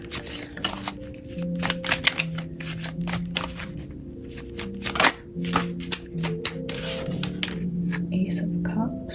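Tarot cards are shuffled in quick, crisp riffling bursts during a psychic reading, close and clear over a soft, sustained tonal background.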